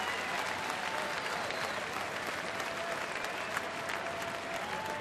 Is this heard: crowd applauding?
yes